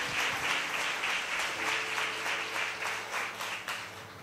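A church congregation applauds during a healing sermon, steady dense clapping filling the room at moderate level, with faint voices and a low hum underneath throughout.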